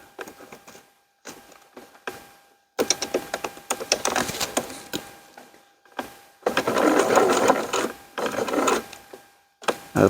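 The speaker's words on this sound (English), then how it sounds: "We want to come back here and sew across here 3 or 4 times." A sewing machine stitches bridle tow loops onto kite keels, sewing back and forth across the same spot several times: close, loud bursts of rapid mechanical stitching broken by short pauses.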